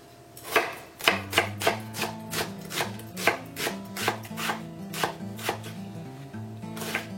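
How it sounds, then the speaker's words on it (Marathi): A knife chops four large onions finely on a board for pork vindaloo, about sixteen crisp, close, evenly spaced strokes over a low steady hum. "4 मोठे कांदे आमी बारीक कातोरया"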